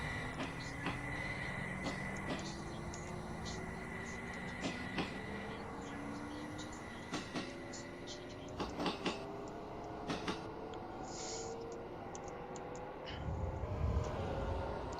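Shinkansen high-speed train in a train simulator game, a steady rolling rail hum with rising tonal whine and periodic clicks and thumps, a low rumble swelling near the end.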